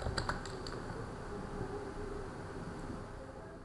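Close, quiet typing on a computer keyboard, with a few quick clustered keystrokes at the start and then softer, sparse taps over low background hum, and no voices.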